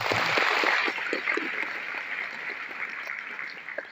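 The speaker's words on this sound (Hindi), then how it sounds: "प्लीज एक बार मैडम के लिए ताली बजाइए" An audience at a business seminar claps for a woman, a dense burst of applause that starts loud and gradually thins and fades over a few seconds.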